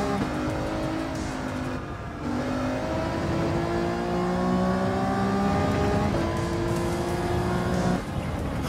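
A race car engine held at full throttle in Gran Turismo 7 drones loudly and continuously, its pitch climbing through gears with brief dips between shifts, steady and close throughout.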